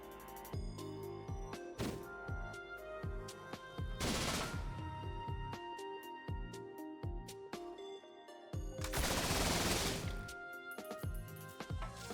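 Rapid Hyperthreader laser shots from a gatling-style build in the video game Risk of Rain Returns, piercing through enemies. The fire is dense and continuous, with louder crackling bursts around the fourth and ninth seconds over steady game sound.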